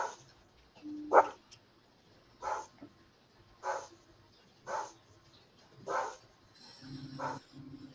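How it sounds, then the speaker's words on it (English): A dog at home barks at a neighbor walking by, giving about six short, evenly spaced woofs roughly a second apart, moderately near, with a faint higher yip and some background noise toward the end. "dog's barking."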